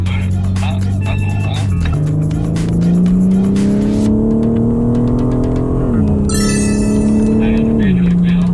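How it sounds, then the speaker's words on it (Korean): A car at the BMW Driving Center accelerates with the gas pedal pressed about halfway, its engine note rising steadily in pitch and loudness, dipping briefly at a shift, then climbing again, heard up close. "절반 정도로 가스 페달을 밟는다는 느낌으로 가속해보겠습니다."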